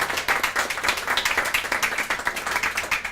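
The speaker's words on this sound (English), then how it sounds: "Let's give it another applause for Dawn." Audience at a poetry evening giving a round of applause, a steady, moderately loud patter of many hands clapping quickly with no talking over it.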